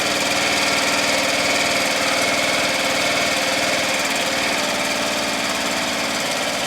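A Murray Select lawn tractor engine idles steadily and loudly with a low, even chugging throb, not hesitating or surging, that holds for the whole stretch and settles slightly lower near the end.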